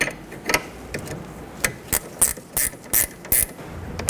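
A ratchet with a 14mm socket snugs a rear brake caliper bolt on a 2006-12 Toyota RAV4, giving a close series of sharp clicking bursts in an uneven rhythm, with no talk.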